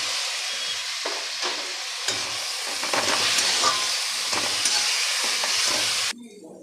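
Onions and tomatoes sizzle and hiss steadily in a hot pan, with intermittent scraping and stirring, until the sizzle drops away abruptly near the end.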